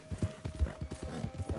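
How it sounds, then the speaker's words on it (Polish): Horse hooves clip-clop in a rapid, steady rhythm in a video game, close and fairly loud over a faint hum. "Ej, no mój koń się wypieprzył."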